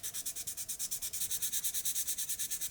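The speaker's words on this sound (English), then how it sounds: "Another sanding session is due" Plastic lid of a 1/24 Tamiya Porsche 959 model car being sanded by hand, a fast, even back-and-forth scratching repeated about twenty times, close and soft with no voices.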